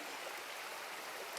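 Water forced hard through a Sawyer Squeeze backpacking water filter during a back flush, a brief steady rushing hiss like a strong stream, close and continuous.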